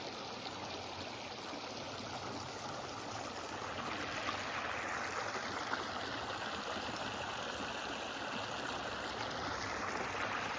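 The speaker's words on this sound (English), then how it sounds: "This would be a fun creek to wade in," Soft continuous babble of a shallow creek flowing along the Natchez Trace Parkway, gentle and steady with a faint broad hiss, no voices.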